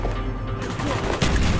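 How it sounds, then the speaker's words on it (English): Gunfire in the Call of Duty Black Ops campaign, a loud, dense clatter of rapid shots and blasts, with a sharper burst near the end over a busy battle din. "Gunfire's drawing attention."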